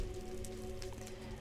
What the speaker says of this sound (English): as you can see, it is still raining